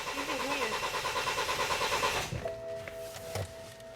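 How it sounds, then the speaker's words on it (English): BMW X3 engine cranking without starting: a steady whirring starter churn runs for about two seconds, then cuts off, leaving faint electrical hums and a couple of soft clicks. "So go ahead and crank the engine."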